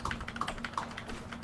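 Rapid keyboard typing on a computer keyboard during a Fortnite session on Xbox, a quick irregular run of light clicking keystrokes close to the microphone, with no talking.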